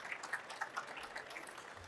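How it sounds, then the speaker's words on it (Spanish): Faint, thin applause from an audience in a trade-fair auditorium at the close of a talk, a scattering of claps heard at low level for about two seconds with no one speaking. "Un aplauso"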